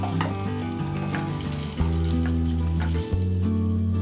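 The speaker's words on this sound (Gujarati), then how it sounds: "અહીંયા આપણા કેળા અને રીંગણ મસ્ત ફ્રાય થઈ ગયા છે સેલો ફ્રાય" Banana and brinjal pieces shallow fry in hot oil in a pan, a continuous crackling sizzle with scraping stirring sounds and a couple of clunks, no voices.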